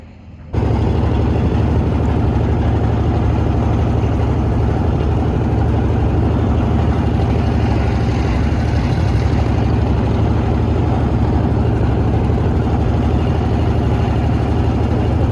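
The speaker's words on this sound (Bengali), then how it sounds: "পরন্ত বিকেল আমাদের ট্রলারটি ছেড়ে দিল" A trawler boat engine drones steadily on a river crossing, a loud, constant low rumble that starts abruptly and runs unbroken to the end.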